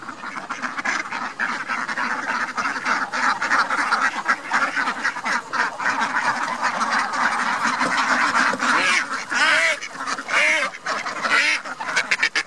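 Khaki Campbell ducks on a farm quacking continuously, a dense flock chorus with overlapping calls from several birds, steady and fairly close throughout.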